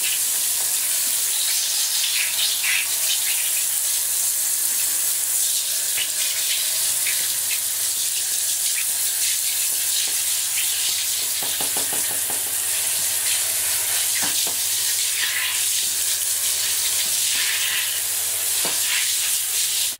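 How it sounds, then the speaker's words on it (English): A shower head sprays water over a screen printing sheet in a bathtub, a steady broadband hiss of rinsing spray running continuously and fairly close with occasional splashes. "I'm going to grab the shower head and just rinse it"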